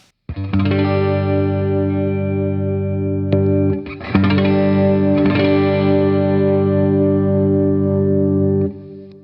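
An electric guitar on its neck pickup rings out through pedalboard effects, sustained chords with shimmering modulation, a couple of brief pick scrapes, then the notes fade away.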